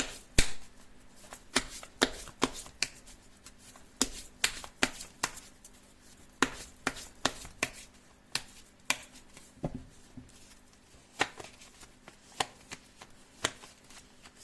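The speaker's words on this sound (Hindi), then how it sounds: "इधर लेते कार्ड की शफलिंग" Tarot cards being shuffled by hand, a steady run of crisp riffles and slaps, close and fairly quiet, with no one talking.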